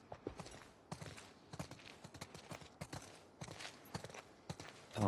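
Horse hooves clip-clop at a steady walking pace in The Last of Us Part II, sharp repeated knocks on hard ground, quiet and fairly close, with no voices over them.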